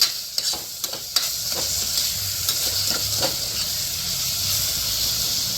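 Raw totapuri mango methamba is stirred in a pot after turmeric and chili powder go in. A steady close sizzling hiss runs throughout, with a few sharp scraping clicks of the spoon early on.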